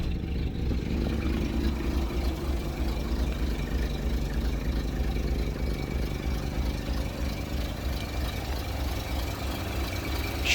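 The engine of a 1969 Rolls-Royce Silver Shadow with about 113,000 miles, a car that needs some work, runs at a smooth, steady idle, a low continuous rumble close by that stays even for the whole stretch, with no voices.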